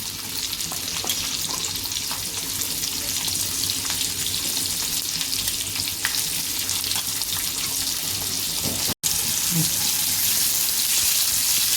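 Onion and curry leaves sizzle in hot oil in a pan for making pitla, a steady dense frying hiss throughout with a brief break near the end, no talk over it.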